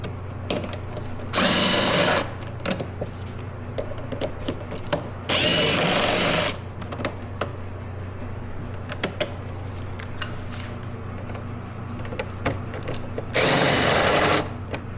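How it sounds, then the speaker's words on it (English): A power tool unscrews fasteners from the tank shelter of a BMW K1300S motorcycle, in three loud whirring bursts of one to two seconds each, separated by quieter handling clatter. "So we're just going to go ahead and start removing all the screws we see on the outside."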